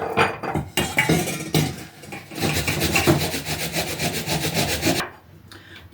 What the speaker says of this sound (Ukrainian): Стремо на дрібну терочку, на кашку, о, на таку от терку нашу цибулю.